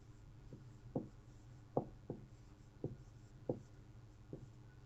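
Chalk or marker strokes on a board during a chemistry lesson, a series of short scratchy taps and squeaks spaced irregularly, fairly close over a steady low hum, with no talking.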